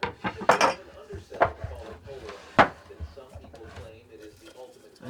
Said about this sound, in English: I want to get and chop up my onion.